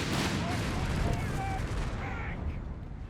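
Dense battlefield noise from Company of Heroes 3, with steady rumbling gunfire and distant artillery blending into a continuous roar, while a commentator talks over it throughout.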